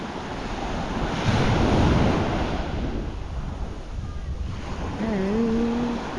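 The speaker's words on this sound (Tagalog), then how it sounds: "Last po ng alon. Maalon po." Ocean waves wash onto a beach in Pangasinan with steady surf and strong wind buffeting the microphone. A brief tonal sound rises near the end.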